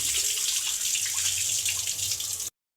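Tap water runs steadily into a sink while small fish are rinsed under it, a close, continuous splashing rush that stops abruptly.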